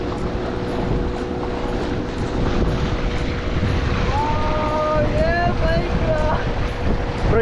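Motor boat cruising on the Sharavathi backwaters near Honnavar, its engine a constant drone under strong wind rush, with a whistling tone rising and falling partway through.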